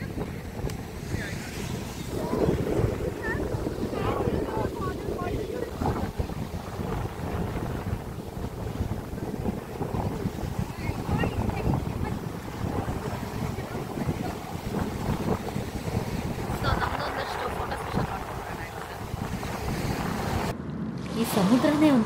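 Off a Pondicherry beach, a boat rides the sea under heavy wind buffeting, with a steady roar of wind and water washing close by, and faint voices in the background.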